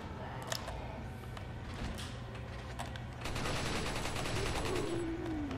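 Gunfire from a handgun in the video game Resident Evil 4, a burst of sharp shots over a steady game soundscape, rising into a louder, busier stretch of action in the second half.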